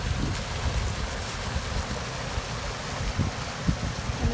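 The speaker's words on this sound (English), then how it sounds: "There's the culvert by my house with all sorts of water coming out." Water pours out of a culvert by a house on a spring nature walk, a continuous rushing wash with scattered splashy surges, steady and fairly close with no talking.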